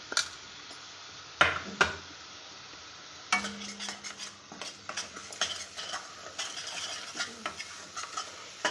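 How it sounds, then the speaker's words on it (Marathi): Spice masala of chili powder, turmeric, salt and garam masala roasts in oil while a spoon stirs and scrapes the pan in irregular bursts, with a soft sizzle between the close clinks. "छान आता तेल सुटेपर्यंत भाजून घ्यायचं."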